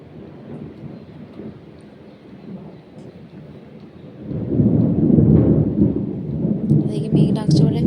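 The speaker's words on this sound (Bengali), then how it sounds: "এদিকে মেঘ ডাকছে" Thunder rumbles low and steady during a rainy spell, swelling noticeably louder midway into a heavy, continuous roll close overhead, with rain hiss beneath.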